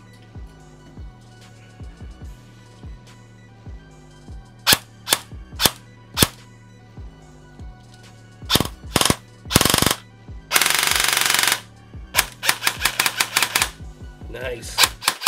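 Custom-built airsoft gun with a freshly adjusted gearbox and motor height, first a steady run of ticking mechanical clicks, then loud sharp single shots and rapid-fire bursts, including one sustained full-auto string, close and crisp.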